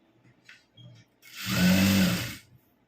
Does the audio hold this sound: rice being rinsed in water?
no